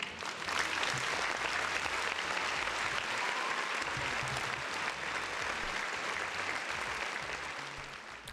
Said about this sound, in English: Round of applause for the folks in the chat.